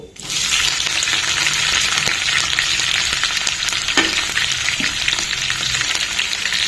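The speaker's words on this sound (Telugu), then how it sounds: "ఇప్పుడు మనం ఇలా కట్ చేసి పెట్టుకున్నటువంటి onion green chilli curry leaves వేసుకున్నాము" Onion, green chilli and curry leaves are tossed into a tempering of fried seeds for oats khichdi, producing a loud, steady, continuous sizzle with occasional soft stirring knocks, close up with no talking.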